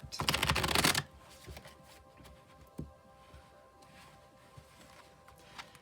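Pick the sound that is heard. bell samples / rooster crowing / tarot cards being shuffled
tarot cards being shuffled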